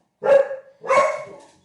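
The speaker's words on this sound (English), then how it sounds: "sorry for the barking dogs" A dog barks twice, close and loud, two sharp woofs about half a second apart.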